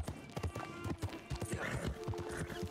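Horse hooves clip-clop in a steady trotting rhythm in Red Dead Redemption 2, close and fairly loud, with someone talking over them and a brief whinny-like tone.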